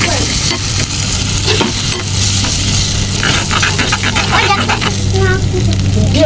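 Eggs frying and being stirred in a pan for a village Mughlai snack, with steady loud sizzling and repeated scraping strokes throughout, and faint background sounds near the end.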